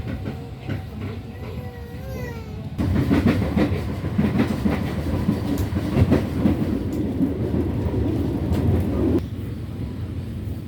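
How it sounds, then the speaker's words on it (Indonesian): Bengawan passenger train pulling out of Pasar Senen station in Jakarta, a steady loud rumble of wheels on rails with rhythmic clickety-clack building after a quieter start. "kereta api Bengawan diberangkatkan dari stasiun Pasar Senen"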